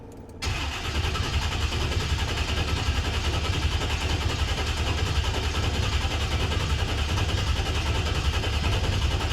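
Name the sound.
Chevrolet Monte Carlo Aerocoupe engine cranking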